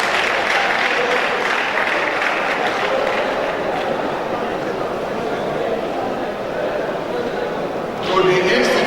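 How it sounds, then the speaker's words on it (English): An audience at a Nigerian Institution of Surveyors event gives a sustained round of applause, a dense wash of clapping from many hands that swells briefly near the end. "we give ourselves a round of applause"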